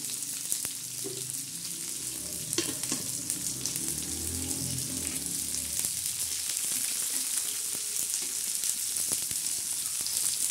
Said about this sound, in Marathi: आपल्याला काळा मसाला करण्यासाठी हा कांदा आपण आता भाजणार आहोत।